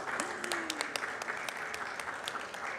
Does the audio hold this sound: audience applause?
yes